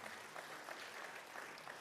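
Quiet, even clapping from a church congregation applauding God during an online worship service, the applause heard at a distance and at low level throughout.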